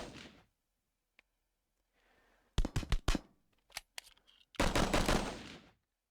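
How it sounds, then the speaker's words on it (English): In the leaked 2000 E3 build of Halo, Needler fire plays with ordinary placeholder gunshot sounds: sharp, loud bursts of rapid shots in a few clusters, the last a longer volley, separated by near silence. "it all just sounds like ordinary gunshots"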